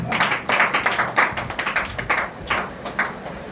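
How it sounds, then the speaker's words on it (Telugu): A church congregation claps together in praise, a steady run of sharp, fairly close handclaps with a loose rhythm, no voices over it. "చప్పట్లు కొట్టి దేవుని మహిమపరచు"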